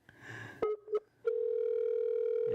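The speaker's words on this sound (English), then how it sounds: "It's ringing." A telephone call connects: a few short beeps, then a steady, loud ringing tone on the line, with brief speech at the start.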